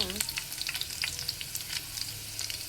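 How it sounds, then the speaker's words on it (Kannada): Curry leaves crackling in hot oil, a dense run of sharp pops and spits over a continuous sizzle, close and steady with no voices. "ಕರಿಬೇವು ಹಾಕ್ಬಿಡ್ತೀನಿ. ಈಗ ಚಟಪಟ ಚಟಪಟ ಅನ್ನುತ್ತೆ ನೋಡಿ"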